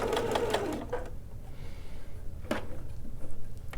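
A sewing machine stitches a welt pocket, running in short back-and-forth bursts of rapid needle clatter, close and clear, with brief gaps between runs and no talking.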